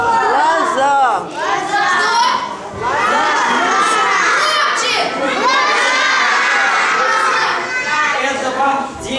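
Children in an audience at a New Year's holiday show shout riddle answers together, a loud continuous crowd of young voices yelling and cheering over each other, with brief dips between bursts.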